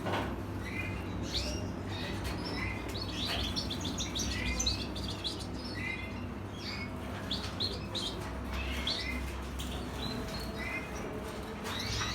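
Mutation canary and goldfinch chicks in a nest give soft, scattered high chirps and peeps over a steady low hum, fairly quiet and close.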